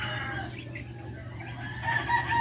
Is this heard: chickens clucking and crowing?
yes